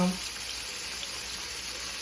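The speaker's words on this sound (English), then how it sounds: "once I get through frying them" Oil sizzles steadily as ribs fry, a continuous close frying hiss with faint crackle and no talk.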